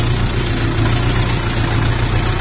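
A cold LOVOL 354 mini tractor engine idles close by, a loud, steady diesel chug with a constant low throb and no pauses.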